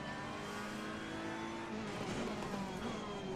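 A Ferrari race car understeering around Imola in Assetto Corsa Competizione, its engine droning loud and steady with rising and falling pitch as it accelerates and corners, with no talk.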